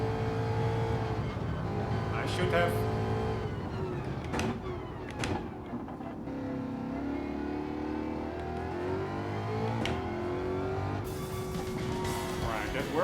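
A race car in Gran Turismo 7 revs through the gears on track, its engine note rising and falling steadily with a few sharp shifts, while a driver talks over it.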